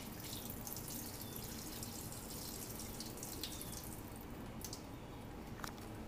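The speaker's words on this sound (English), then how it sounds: "So first let's just drain this water out." Water drains out of a pot of rinsed rice into a sink, a faint steady trickle and patter with a few small drips near the end.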